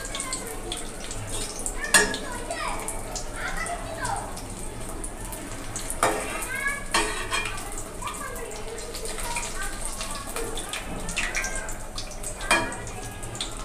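Eggplant fritters (beguni) fry in hot oil, a steady close sizzling and bubbling with occasional clinks of a utensil against the pan, running continuously throughout.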